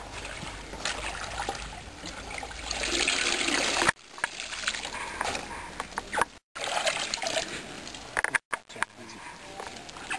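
Water trickles and splashes while oyster mushroom substrate is rinsed in a sack, a continuous close pouring wash broken by a few brief gaps.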